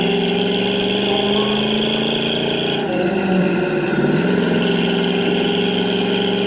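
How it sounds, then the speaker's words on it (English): A 1968 Chevrolet Camaro RS engine rumbles steadily with a low dual-exhaust drone while driving, continuous and moderately loud throughout. "Nice set of dual exhaust. Sounds good going down the road."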